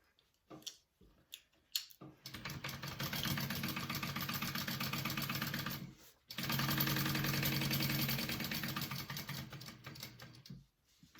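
A sewing machine stitches a seam on a fabric divider bag pocket in two close, steady runs of rapid mechanical whirring, separated by brief pauses with soft handling clicks before and after.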